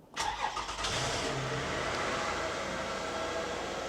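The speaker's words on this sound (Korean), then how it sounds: "엔진 소리 상당히 좋죠" A car engine cranks and catches, then settles into a steady, smooth idle that continues evenly close by.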